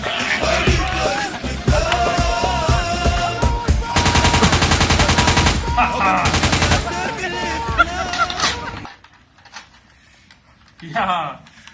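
Machine gun fire in a WW1 video game comes as rapid, loud bursts, with the densest stretch in the middle, mixed with other game sounds and voices, then breaks off into near silence.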